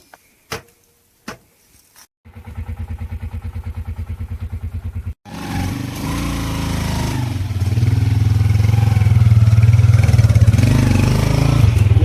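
A motorcycle engine clicks, cranks for a few seconds, then catches and settles into a steady close idle. Its pitch and loudness rise toward the end as it is revved. No one talks.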